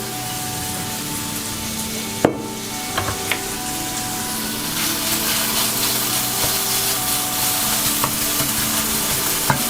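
Food sautéing in a light drizzle of olive oil in a pan, a steady close sizzle running throughout with a few small clicks and knocks, no voices.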